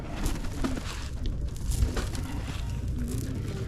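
Shami pigeons in a loft in Berlin, Germany, giving low soft coos repeatedly against a background of rustling and faint ambient noise, fairly close with no speech.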